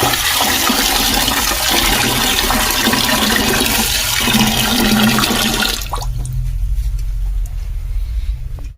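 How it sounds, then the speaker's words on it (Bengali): Potatoes and ivy gourd washed under a running kitchen tap, a loud continuous rush of water with splashing, close by, easing slightly in the last few seconds. "এখানে আলু কুন্দলি নিয়ে নিয়েছি এবার এটা ধুবো ধুয়ে নিই"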